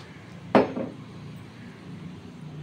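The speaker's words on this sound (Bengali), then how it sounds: "কড়াই বসিয়ে দিলাম, এই তেল দিয়ে দিলাম" A metal wok set down on a kitchen stove gives one sharp clank with a short ring, then quiet kitchen background noise.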